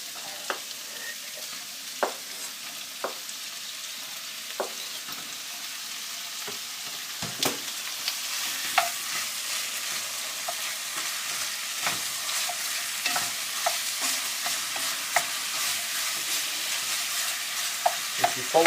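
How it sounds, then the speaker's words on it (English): Meat browns in a hot frying pan with onions for a Cumbrian tatty pot, giving a steady hissing sizzle with sharp clicks and scrapes of stirring scattered throughout, close and without talk. "next I'm going to put the meat in just to brown it off"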